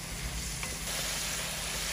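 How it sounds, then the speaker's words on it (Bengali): Spices frying in a pan for a Bengali curry give a steady, close sizzle and hiss that runs evenly through the whole moment with no voices. "আমাদের মশলা কষানো খুব সুন্দর করে কষানো হয়ে গেছে"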